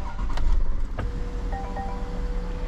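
A 2018 Range Rover Sport's 3.0 V6 turbo diesel fires up via push-button start: a brief crank burst, then a steady low idle rumble close by, with soft electronic chime tones over it and no talking.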